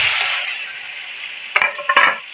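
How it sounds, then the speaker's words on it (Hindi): Mutton frying in hot oil for a dhaba-style mutton karahi, a soft sizzling hiss followed by two short bursts of spattering and metallic stirring clatter near the end. "मटन के हम अच्छी तरह से फ्राई कर लेंगे"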